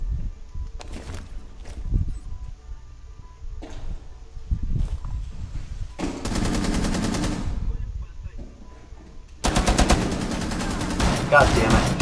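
Bursts of automatic gunfire in Rainbow Six Siege on the Consulate map, rapid rattling volleys in two sustained stretches separated by quieter gaps with scattered shots and game sounds.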